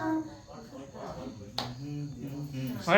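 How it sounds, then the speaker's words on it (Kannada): Two or three sharp hand claps, one near the middle and one at the end, ring out at a home Deepavali puja while a woman sings a devotional Lakshmi song. "ಚಪ್ಪಾಳೆ"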